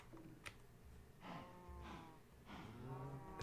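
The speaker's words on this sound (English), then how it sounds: "Why can I hear cows?" Several drawn-out cow moos in a modded Minecraft game, low and bellowing, repeating every second or so over a steady background hum.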